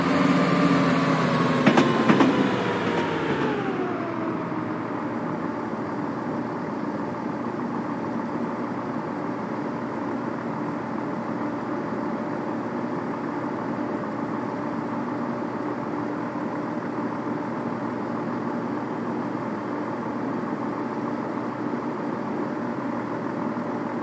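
Simulated Class 170 DMU train in a train simulator game rumbles, then drops in pitch as it slows in the first few seconds and settles into a steady idling hum that continues alone for the remainder.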